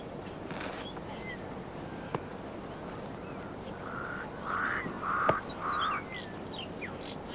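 A crow in lion country, where it scavenges carrion alongside a lion cub, gives a few harsh, rasping caws in the latter half, moderately distant over a steady outdoor background hiss.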